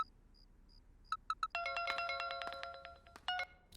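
A phone ringing in a film scene: a few faint electronic beeps, then a bright melodic ringtone plays in repeated bursts, fairly clear over quiet background.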